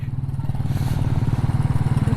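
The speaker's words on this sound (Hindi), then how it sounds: "जितनी गाड़ियाँ जा रही है ना उतनी ही बाइक्स जा रही हैं दर्शनों के लिए" A motorcycle engine runs close by with a steady, throbbing low putter on a mountain road during the Kedarnath pilgrimage season, its rhythmic pulses continuous for about two seconds with no talk.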